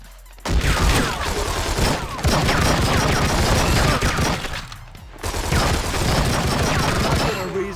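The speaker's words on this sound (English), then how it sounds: "Take sight of what you want, and then fire off a few rounds into your target" Rapid bursts of gunfire from a handgun in True Crime: Streets of LA, a video game, loud and dense in three long volleys separated by brief pauses.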